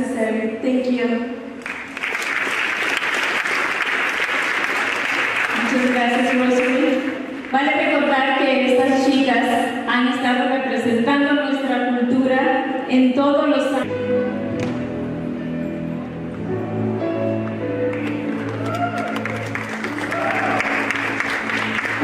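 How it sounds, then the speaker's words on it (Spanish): Audience clapping at the crowning ceremony of a Miss Cultural World beauty pageant, blended with loud music carrying a strong melody and sustained tones that dominate the mix as the applause runs underneath. "el aplauso."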